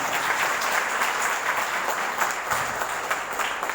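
Sustained, dense applause from an audience at a banquet event in Ranchi, steady and loud throughout with no voices over it.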